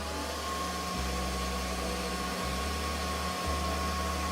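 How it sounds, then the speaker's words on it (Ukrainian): A hair dryer on its first speed, drawing about 920–940 W, gives a steady motorized whir with a low hum throughout, briefly dipping and resuming a few times, fairly close and constant. "Давайте ще під'єднаємо фен."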